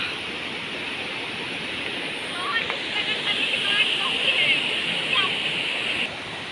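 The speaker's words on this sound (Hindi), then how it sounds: "देखो गाइस इतना ऊपर तक ये झरना" The Dhangari waterfall rushes as a steady, dense roar of falling water. The noise swells slightly midway while faint voices sound beneath it.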